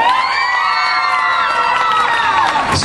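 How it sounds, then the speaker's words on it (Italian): Young voices in a singing-show audience cheer and shout for a contestant named Daniela during an applause-meter vote, a loud continuous high-pitched roar lasting nearly three seconds before cutting off. "Applausometro per la Daniela."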